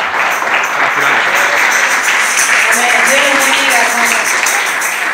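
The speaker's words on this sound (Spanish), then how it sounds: "Fuerte el aplauso para el señor." A congregation at a church youth anniversary service breaks into loud, sustained applause for a man, steady dense clapping lasting several seconds with faint voices underneath.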